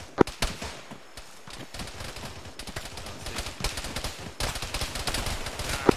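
Rapid gunfire crackles through an Arma 3 firefight, with sharp rifle and machine-gun bursts popping in irregular rhythm, some close and loud, others more distant, with almost no talk.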